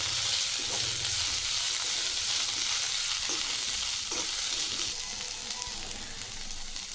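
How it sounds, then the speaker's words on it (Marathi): Vegetables are stirred with cumin, mustard seeds and crushed garlic in hot oil in a pan, making a steady loud sizzle with soft scraping stirs throughout. "जिरे मोहरी, ठेचलेलं लसूण आणि आपली भाजी। हे व्यवस्थित मिक्स करून घेऊ आधी।"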